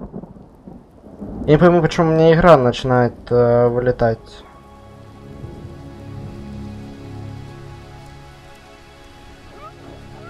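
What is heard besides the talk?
thunderstorm and rain in the video game Ori and the Will of the Wisps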